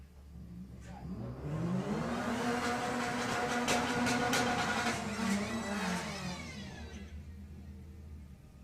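A kit car launches down a drag strip, its engine note rising in pitch as it accelerates hard past the listener, swelling loud through the middle and then fading as it pulls away, with no voices.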